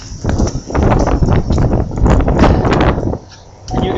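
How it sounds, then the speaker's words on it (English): Strong gusting wind roars outdoors during a nighttime blizzard in a Walmart parking lot in Prescott, Arizona, with snow plowing underway. Loud broadband rushing fills the clip, easing briefly before picking up again. "And it's really windy out here"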